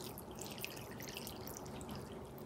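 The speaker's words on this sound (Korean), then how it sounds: "마지막으로 이제 육수를 이렇게 위에서 부어주세요." Broth poured from above over salted napa cabbage for kimchi, a steady wet splashing and dribbling stream that runs without a break for the whole stretch, moderately close and fairly quiet, with no talk.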